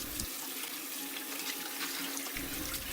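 Tap water runs steadily into a kitchen sink while Chinese broccoli (gai lan) is rinsed under it, a close, continuous splashing wash with no talk.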